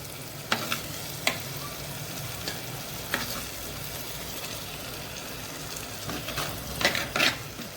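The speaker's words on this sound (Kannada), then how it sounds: "ಸೊ ಹಾಕ್ಕೊಂಡು ಅದಕ್ಕೆ ಮಸಾಲೆಯನ್ನು ಮಿಕ್ಸ್ ಮಾಡ್ಕೊಳ್ಳೋಣ." Boiled eggs are stirred with masala in a pan over low heat for an egg pepper fry, a quiet steady sizzle punctuated by scattered spatula scrapes and taps against the pan, no talking.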